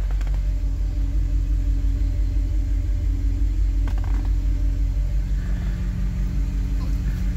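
A 1962 Chevy Impala two-door's engine idles steadily while warming up in a home garage, a low continuous rumble close by with a slight rise in revs partway through.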